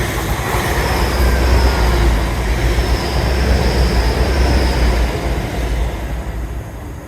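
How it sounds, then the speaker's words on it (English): A train rolls past loudly and close at Dawlish, a heavy continuous rumble with clattering wheels and a faint high whine, easing slightly toward the end. "Oh, train!"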